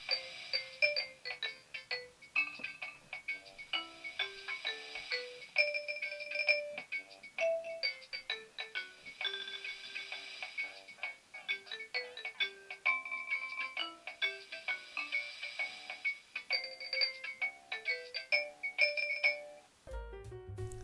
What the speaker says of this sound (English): These are some of the most fun ringtones I've ever heard.